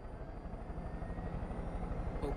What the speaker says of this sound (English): now that we have a helicopter, let's fly up here